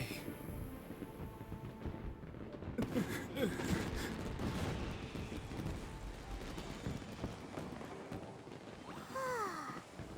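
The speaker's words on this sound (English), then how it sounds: "Yumiya, these fireworks, what do they mean to you?" Fireworks go off in the video game Genshin Impact, a series of bursting booms and crackles spread across several seconds at a moderate level, with faint whistling streaks near the start and end.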